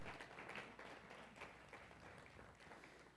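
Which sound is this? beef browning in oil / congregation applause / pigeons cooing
congregation applause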